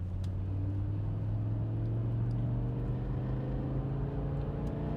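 A BMW E60 cruises on the highway after its rear upper suspension arms were replaced, giving a steady, continuous low engine and road drone with no talk.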